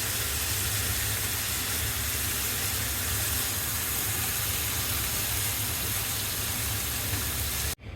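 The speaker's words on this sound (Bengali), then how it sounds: "হালকা একটু ভেজে নিচ্ছি।" Big river giant prawns fry lightly in a pan with a constant close hiss of sizzling oil, broad and unbroken for several seconds before cutting off abruptly at the end.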